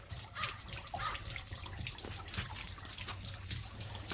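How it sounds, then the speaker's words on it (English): Steady running water drains from a travel trailer's hot water tank, pouring and splashing continuously, a moderate close trickle with broad hiss and no voices. "See all the water that comes out?"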